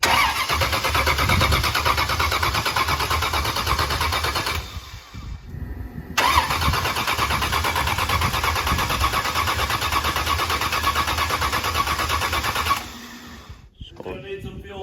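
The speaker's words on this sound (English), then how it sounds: "I'm just gonna roll it on the starter so we can hear it." A supercharged Camaro V8 cranks on the starter at close range, a loud continuous churning that runs for several seconds, breaks off briefly, resumes and then stops without the engine catching.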